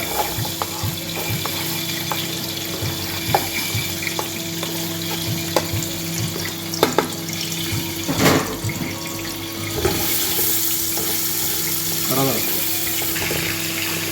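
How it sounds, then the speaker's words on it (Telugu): Chopped onions fry in hot oil in a pan for chicken mandi, a steady sizzle with occasional stirring clatter and water-like hiss filling the background at moderate loudness. "ఆయిల్ వేడెక్కుతుంది అంటే ఇందులో ఉల్లిపాయలు వేసుకుంటున్నాను"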